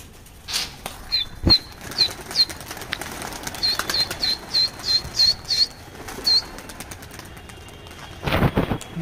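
Pigeons flap their wings in a series of quick, close bursts, the fluttering repeating in short clusters with brief pauses between.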